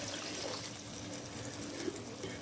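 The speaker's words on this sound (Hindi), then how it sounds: "तो मैं इसमें 3 प्याली पानी डाल लूँगी" Water poured from a measuring cup into a pot of soaked rice for white pea pulao, a steady continuous splashing and trickling pour, close and fairly quiet, with no voices.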